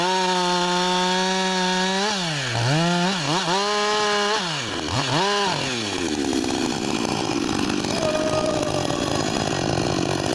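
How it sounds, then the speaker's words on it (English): A chainsaw working into a big tree: the engine idles steadily, then revs up and down in several swooping surges before settling into a sustained, loud, rough cutting roar through the timber, close and alone. "The chainsaw roars to life, a beast unleashed. In an instant, steel bites into timber,"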